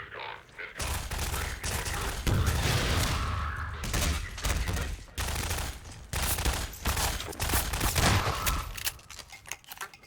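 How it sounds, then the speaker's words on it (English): Rapid bursts of gunfire in the video game Half-Life 2: Lost Coast, with loud, dense volleys that repeat and overlap for the whole stretch, and a faint voice now and then beneath them. "Now, who is shooting at me?"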